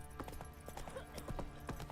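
Roach the horse trots in The Witcher, its hooves sounding a quick, even clip-clop rhythm close and clear for a couple of seconds, with faint voice in the background.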